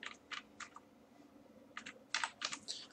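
Fingers type a password on a computer keyboard while logging into a web portal: short, quick bursts of keystrokes separated by pauses, close and quiet, with no talking.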